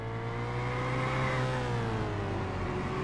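Race car in Burnout 2: Point of Impact hitting turbo boost, a loud continuous engine whine rising in pitch then easing down, steady and close with no talk over it.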